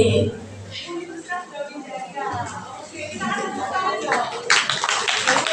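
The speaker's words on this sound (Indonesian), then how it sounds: "Kita langsung tepuk tangan yang meriah" Audience applause at a school entrepreneurship motivation session, clapping building under a speaking voice and swelling louder toward the end.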